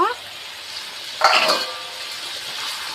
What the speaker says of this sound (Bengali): আবার নেড়ে চেড়ে দেব। সবজিটা ভালো করে কষিয়ে নেব ভাজাভাজি করে।